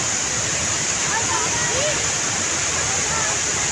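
Steady, loud rush of a tall waterfall at Lake Sebu, a continuous broadband roar filling the whole clip with no breaks.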